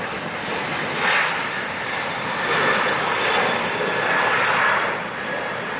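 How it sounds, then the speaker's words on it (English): An airplane takes off at Los Angeles International Airport, its engine roar steady and broad, swelling and easing in waves as it passes, continuous and moderately loud with no voices. "Late takeoff."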